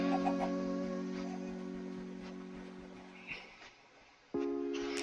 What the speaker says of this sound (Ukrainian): Прикро, що кури там ходять, їх зомбаки не трогають